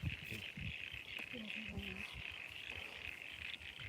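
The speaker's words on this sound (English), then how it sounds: "Crickets are loud." Crickets trill in a steady, faint chorus at night with a few low frog croaks mixed in, and a person speaks quietly over it.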